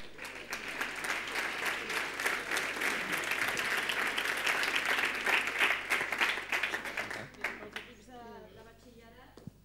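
An audience claps steadily for several seconds at a school technology education event, dense and sustained before tapering off into a few scattered claps and a voice at the end.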